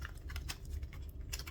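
Scissors cutting open product packaging during an unboxing: a quick run of crisp, close snips and rustles, quiet and alone.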